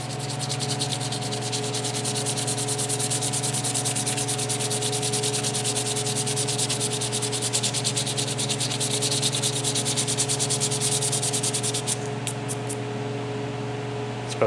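A Miata wheel is sanded with 320 grit sandpaper, giving a continuous close, loud rasping scrub that holds steady for about twelve seconds before it breaks off into a few short strokes at the end.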